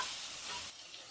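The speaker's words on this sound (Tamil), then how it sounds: "சேர்த்ததுக்கப்புறம் ஒரு நிமிஷம் ஆயிலை நல்லா வதக்கிக்கலாம்." Ginger garlic paste sautés in hot oil over a low flame for egg puffs, a soft continuous hiss of frying that fades slightly partway through, with no voices.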